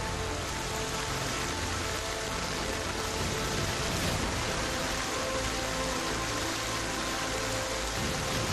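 Heavy monsoon rain in the hills comes down as a dense, unbroken roar of broadband hiss, steady and loud throughout with no voices.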